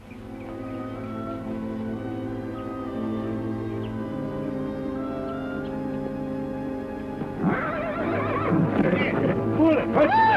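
A horse neighs over an orchestral music score in a 1952 Western TV episode, with a louder whinny and stamping near the end amid the music, and a voice speaking.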